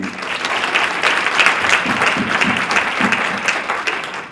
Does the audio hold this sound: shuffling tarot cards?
no